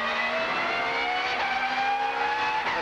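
Onboard race car at Winton, a 1999 Australian Super Touring Championship touring car, engine loud and close, revving and accelerating hard, pitch rising steadily.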